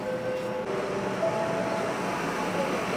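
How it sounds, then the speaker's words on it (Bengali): A Kolkata Metro train at underground Howrah station produces a low, steady rumble and hiss of rolling carriages, fairly quiet and continuous with no speech over it. "এই যে আমাদের ট্রেন চলে এলো"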